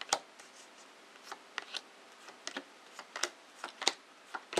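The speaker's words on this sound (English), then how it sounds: "the cards have been shuffled very thoroughly" Tarot cards being shuffled by hand in a quiet room, a series of soft, sharp riffling clicks and snaps in irregular bursts, close and fairly faint.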